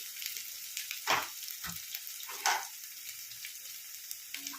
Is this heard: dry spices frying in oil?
yes